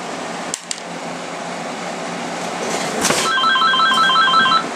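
A telephone rings indoors with a repeated electronic trill in short bursts, loud over a steady background hum, preceded by a couple of sharp knocks and a thump.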